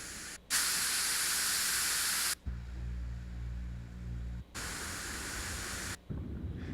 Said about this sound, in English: So that's pink noise.